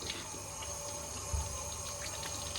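A child splashing and playing with running water from a tap at a sink, a steady gushing flow with a brief louder splash near the middle.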